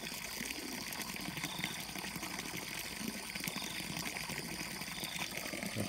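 Steady broadband splash of water flowing from a spout into an outdoor fish pond at early morning, continuous and fairly loud throughout with no talk.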